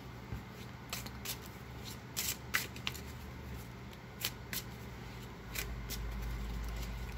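Tarot cards are shuffled and handled in a few short, quiet bursts of riffling and sliding, close up and soft, with a low hum underneath and no talking.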